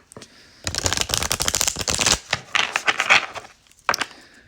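A deck of tarot cards is shuffled close up in rapid riffling bursts, with a short pause in the middle and a few final taps at the end.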